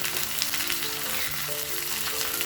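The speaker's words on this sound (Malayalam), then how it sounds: "ഉള്ളി ചേർക്കുകയാണ്. ഉള്ളി ഒന്ന് ചുമക്കെ വഴറ്റിയെടുക്കാം." Chopped onions sauté in hot oil in a pan for a fish curry, a steady close sizzle and crackle that carries on without pause and with no voices.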